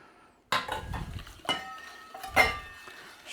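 Lemon zest and juice are stirred into lemon curd, with a few soft clinks and scrapes of a utensil against the bowl, quiet and close.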